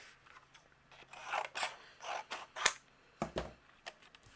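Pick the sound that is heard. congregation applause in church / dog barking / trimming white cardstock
trimming white cardstock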